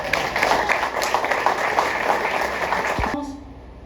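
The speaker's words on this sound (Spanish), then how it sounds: "Bríndale un fuerte aplauso al Señor." Congregation at a church service applauding loudly for about three seconds, a dense steady wash of clapping that cuts off abruptly, leaving a brief low hum.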